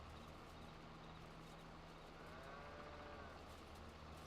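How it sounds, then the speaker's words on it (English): Cattle mooing in the farming game Farming Simulator 22, a steady low lowing that sits close and continuous over a constant background drone for a few seconds. "Cows in the way."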